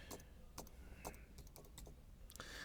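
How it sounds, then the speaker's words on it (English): Rapid bursts of computer keyboard typing, clicking in short irregular clusters as a name is entered, close and moderately loud over a faint room hum. "And now we'll type in your name."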